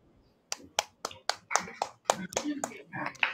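Audience claps and taps come in a series of sharp, evenly spaced strikes, like a few people clapping, welcoming a psychology counselor guest on a Korean metaverse healing talk show. Faint voices sit underneath.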